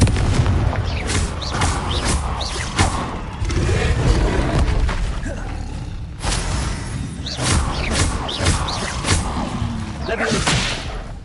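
Spell-casting effects in Hogwarts Legacy, with repeated sharp blasts, whooshes and bangs erupting over a dense layer of game action and music, loud and close throughout.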